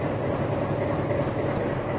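A heritage meter gauge train at Patalpani railway station gives a steady, dense rumble of running noise that fills the whole stretch without a break, and no voices are heard.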